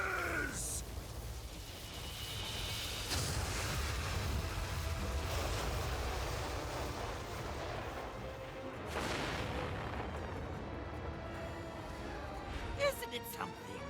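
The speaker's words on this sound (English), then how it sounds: "That's the sound of Lord Hadlar using his most powerful spell, Kaziz." Booming spell explosions from Lord Hadlar's most powerful spell, Kaziz, in Infinity Strash: Dragon Quest The Adventure of Dai on PS5, a sustained roaring blast with rumbling low end and crackling bursts, loud throughout with voices speaking over it.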